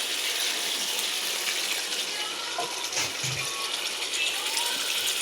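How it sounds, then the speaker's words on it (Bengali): Water poured into a cooking pot for a village-style egg curry, a continuous loud gushing splash that runs steadily throughout with no talking. "এবারে আমি জল দিয়ে দেবো।"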